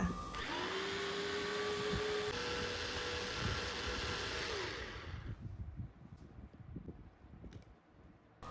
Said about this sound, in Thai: ให้นำไปใส่เครื่อง ปั่นมีอ้อยจะไม่ปั่นในขณะที่กำลังร้อนๆนะคะ เพราะอาจจะทำให้เครื ่องปั่นพังได้ง่ายๆ และปั่นส่วนผสมของหัวกุ้งให้ละเอียดเลยค่ะ